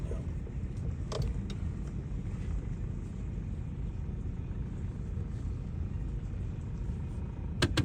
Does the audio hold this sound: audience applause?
no